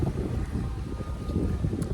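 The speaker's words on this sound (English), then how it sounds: "It's so windy." Strong wind outdoors buffets the microphone, producing low rumbling gusts that rise and fall in a fairly loud, unsteady roar.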